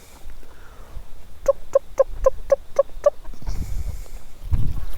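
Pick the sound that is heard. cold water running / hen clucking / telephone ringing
hen clucking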